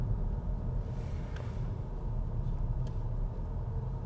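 A BMW 520d xDrive rolls slowly toward a traffic light, heard from inside as a steady low engine and road rumble with no other sounds standing out.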